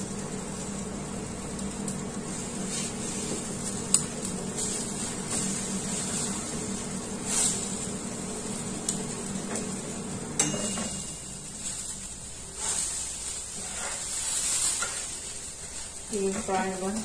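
Nuggets fry in a pan on a stovetop, giving a steady close sizzle with occasional utensil clinks and stirring, while a person talks over it.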